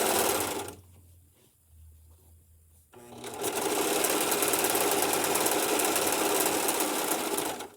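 A Singer Profinish serger runs loud and close, with a short whirring burst, a brief pause with low hum, then a long, steady, fast mechanical chatter that stops abruptly.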